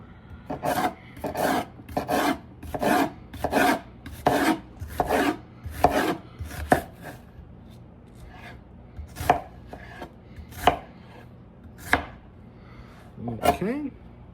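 A knife dicing an onion on a cutting board for pico de gallo, a run of crisp, evenly spaced chops, quick at first and then slower and more spread out, close and clear.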